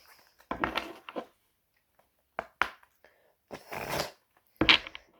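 Heart chakra oracle cards shuffled and drawn in a few separate bursts of soft, close riffling and sliding, with quiet gaps between them.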